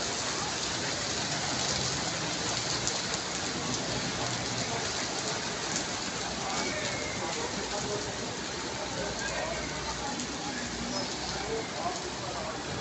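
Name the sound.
rain falling in Karachi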